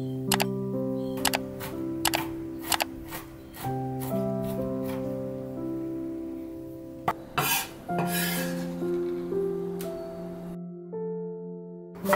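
A kitchen knife chopping peeled burdock root on a cutting board, sharp evenly spaced knocks over soft background music, then a quick flurry of cuts.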